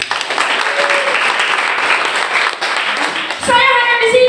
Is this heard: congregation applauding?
yes